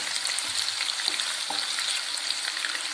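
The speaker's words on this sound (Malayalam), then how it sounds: "കേരമീൻ അച്ചാറിടുവാൻ വേണ്ടി വറുത്തുകൊണ്ടിരിക്കുകയാണ്." Pieces of kera fish (tuna) frying in hot oil for pickle give a loud, dense, continuous sizzle with a few soft clinks, and no voices.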